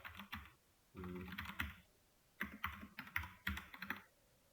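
Code is typed on a computer keyboard in close, crisp bursts of keystrokes separated by short pauses, with no talk over it.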